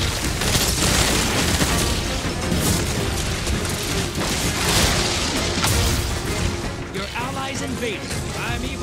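A rocket explosion in Destiny 2 during Gambit: a loud, booming blast with crashing debris that fills the mix, then rumbles on beneath ongoing game noise while a player talks.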